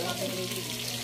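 Oil sizzling and crackling steadily as food sautés in a pan for tinola with papaya, close by, with a faint voice underneath.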